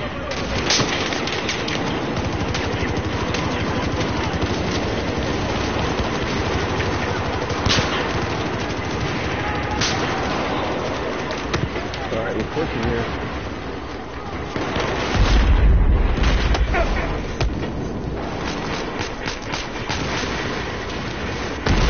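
Battlefield 4 gameplay fills the clip with dense, continuous gunfire, then a heavy grenade explosion booms partway through before the shooting carries on.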